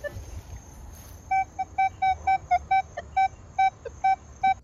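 A metal detector reacts to a buried quarter coin with a series of about a dozen short, clear, evenly spaced beeps over faint background hiss, sharp and distinct against the low rumble.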